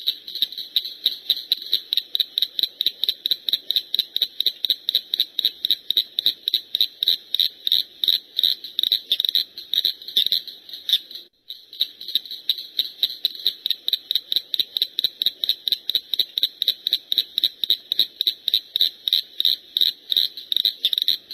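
A small true frog with very rough skin calls in a loud, fast, regular series of shrill pulsing notes that go on without pause, except for one short break midway.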